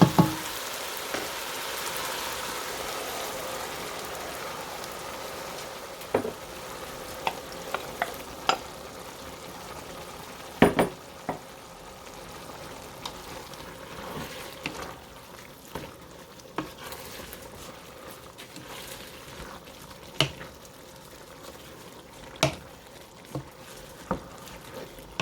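Peppers and onions fry in a pot for stuffed pepper soup, giving a steady, fairly quiet sizzle with occasional sharp clicks and knocks of stirring throughout.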